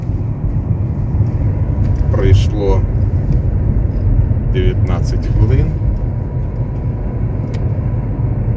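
A steady low car engine drone runs throughout, the engine warmed up to operating temperature, with someone speaking briefly over it.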